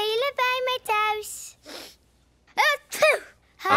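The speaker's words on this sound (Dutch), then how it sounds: "Hatsjoe!" A cartoon character in the children's show Bing sneezes loudly, followed by a gasp and then another sneeze, set between bursts of high-pitched cartoon voices.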